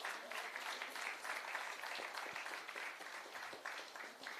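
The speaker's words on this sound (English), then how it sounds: "Can we give a big round of applause?" Continuous audience applause at an HR summit in a Bangalore hotel ballroom, broad and steady but fairly quiet, with individual claps audible in the wash.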